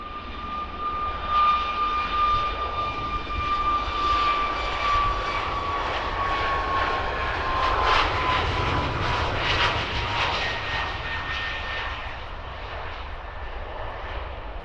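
An airplane takes off from runway 22 at London Stansted Airport, its engines giving a loud, steady roar with a high whine that holds and swells across the whole stretch, with no voices.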